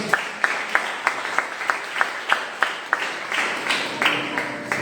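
A church congregation applauds during a service, rhythmic clapping with sharp repeated hand claps over a reverberant room murmur, steady and moderately loud throughout.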